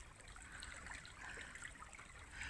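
Water running through a pipe outdoors, a steady, soft trickling and gurgling flow with faint splashing, continuous and fairly quiet, with no one speaking.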